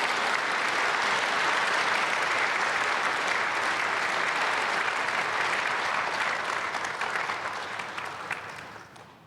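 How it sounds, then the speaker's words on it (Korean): A church congregation bursts into loud, sustained applause during an early-morning prayer service, thick steady clapping that holds for several seconds before gradually tapering off near the end. "박수로 맞이하겠습니다."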